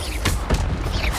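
Incendio fire spell cast in Hogwarts Legacy, a few dull whooshing bursts and thumps in quick sequence, moderately loud, with a faint voice mixed in.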